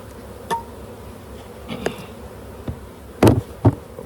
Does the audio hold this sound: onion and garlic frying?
no